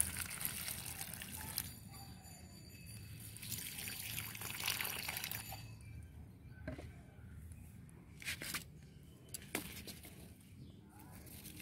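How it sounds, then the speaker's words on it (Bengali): Water trickles and pours gently from a can onto a rooftop vegetable bed of greens, a faint continuous splashing with occasional birds in the distance and quieter gaps between pours. "এবার হালকা করে জল দিয়ে দেবো।"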